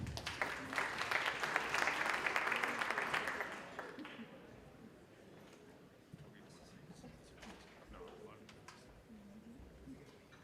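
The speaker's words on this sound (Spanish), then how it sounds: "Un aplauso, por favor" Applause from an audience at a health-rights forum of Colombia's hospital association rises for about four seconds, then fades into quiet room noise with faint shuffling.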